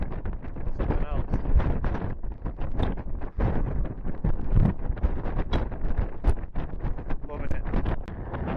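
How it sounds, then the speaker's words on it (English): Strong wind on Skiddaw mountain in thick fog roars and buffets the microphone in loud, gusting waves, with breathing or muffled voice sounds mixed into the blustery noise. "That wind, something else."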